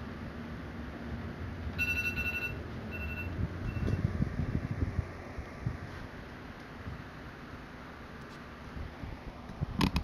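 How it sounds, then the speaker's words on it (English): A phone alarm rings in a horror video game, Man of Medan, on a ghost ship: short repeated electronic tones sound twice early on, then again briefly near the end over a low hum. "Sorry about my alarm."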